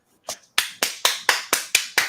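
A man claps his hands in a scene from The Twilight Zone (2019), giving about eight sharp, close claps. The first one comes alone, then seven follow in a quick, steady rhythm with no talk.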